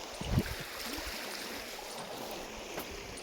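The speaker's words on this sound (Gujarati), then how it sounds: "જો તો પાણી હાલ્યું જાય છે" Water in an open canal flowing by, a soft steady rushing wash with a brief low splash near the start, fairly faint and continuous with no talking.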